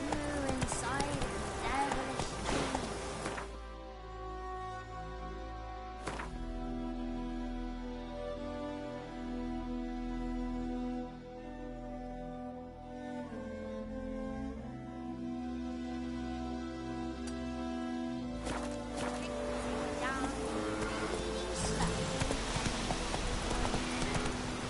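Roach the horse gallops in a Witcher video game, hooves clip-clopping in a steady rapid rhythm that runs through the whole stretch, close and fairly loud, under music and with someone talking at times.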